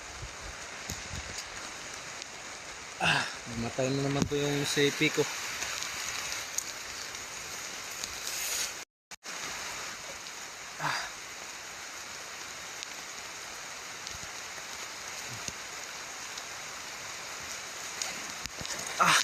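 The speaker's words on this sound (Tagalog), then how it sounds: "Sobrang lakas ng ulan mga tol." Heavy storm rain pours down in a dense, constant hiss that fills the whole stretch, with a brief spoken remark and some handling thumps over it.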